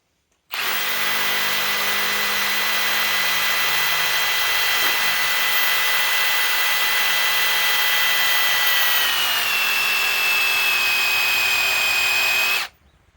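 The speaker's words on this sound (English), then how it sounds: "All we're doing is drilling a hole." Milwaukee M12 Fuel Stubby cordless power tool drilling a hole, a loud continuous high whine that starts abruptly, holds steady for about twelve seconds with a slight pitch shift, then cuts off.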